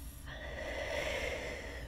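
A person draws a slow, deep breath in during a guided meditation, a steady soft airy inhale close to the mic that lasts under two seconds with no talking over it.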